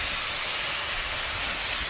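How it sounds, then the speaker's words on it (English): Thick steak reverse seared on a hot flat rock, giving a steady, loud broadband sizzle and hiss that holds evenly throughout with no talk. "So let's sear that sizzle."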